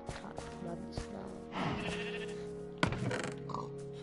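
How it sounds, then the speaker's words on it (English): Sheep in a video game petting zoo give several wavering bleats, close and clear against a quiet game background. "So, there's sheep,"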